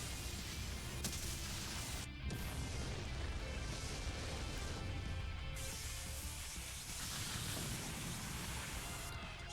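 Battle explosions and weapon effects from the Super Robot Wars Y demo on Nintendo Switch roar in a continuous dense blast of noise, with brief cutoffs between bursts and no talking.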